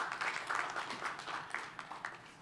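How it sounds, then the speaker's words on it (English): A conference audience at the AfPIF 2026 internet event claps for a speaker, a brief spread of scattered hand claps of moderate loudness that thins out toward the end. "A round of applause for Samuel, please."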